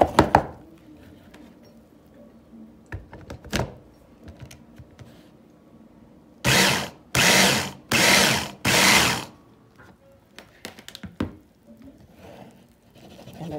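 An electric chopper finely chops a homemade natural seasoning in four loud, even bursts of whirring a couple of seconds each, separated by short pauses and set among scattered clicks and handling knocks.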